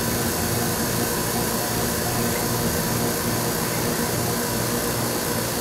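A vacuum pump runs steadily while drawing vacuum on a water-filled permeability panel, a loud, even, broadband hiss and hum that holds constant with no pauses or voices.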